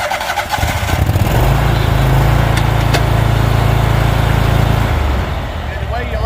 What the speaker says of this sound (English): I'm going to start it up now and run it around real quick for you